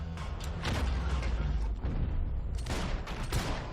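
Warning gunshots in the Max Payne 3 video game, a dense burst of loud cracks and booms filling the moment, with repeated sharp impacts over a continuous low rumble.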